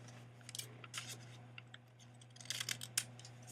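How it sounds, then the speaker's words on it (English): Scissors snip through folded notebook paper, cutting it in half with a handful of quiet, close crisp clicks and rustles in bursts over a steady low hum. "Then you're going to cut this in half. I can find my scissors right there."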